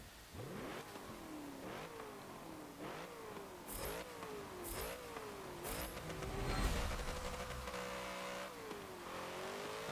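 A 1963 Volkswagen Type 2 De Luxe van revs hard through repeated rising gear pulls in Forza Motorsport 7, the engine note climbing and dropping in steady cycles with a few sharp clicks, loud and continuous with no talk.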